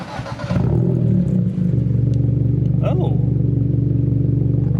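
Hyundai Elantra with the muffler deleted starts up and idles loud and close in a raspy, steady drone, with a brief rev or clatter near the middle.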